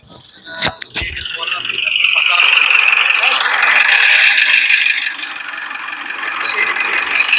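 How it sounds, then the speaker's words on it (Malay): A Mitsubishi Pajero 4D56 diesel engine, recently overhauled, runs at idle with a knocking fault. A couple of sharp clanks come first, then a loud, steady, rattly clatter that holds close to the microphone. "Tapi bila dia hidup ada bunyi ketukan dan bunyi piston."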